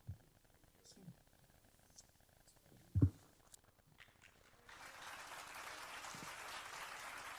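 After a few quiet seconds broken by scattered thumps, a panel session audience at a conference breaks into light, even applause that continues to the end at a moderate distance.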